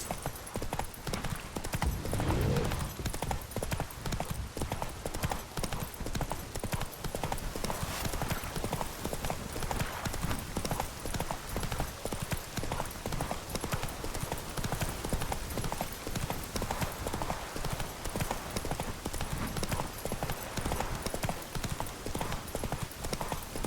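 Roach, a horse in The Witcher 3, trots with continuous rapid clip-clopping hooves over dense game ambience, loud and steady throughout with no pauses.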